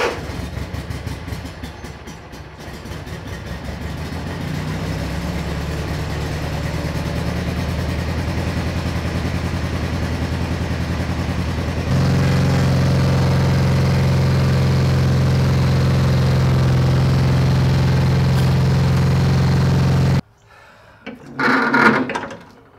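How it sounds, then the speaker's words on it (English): A Cub Cadet tractor engine under repair runs at a steady mid-pitched idle for about twenty seconds, its tone rising slightly midway, then cuts off abruptly before a brief clatter. "Now we need a tractor."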